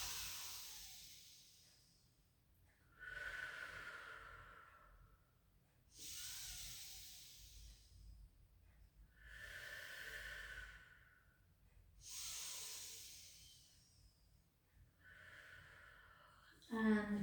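Slow deep breathing during a pilates quad and thigh stretch: several airy inhales and exhales spaced a few seconds apart, soft and close, with no other sound.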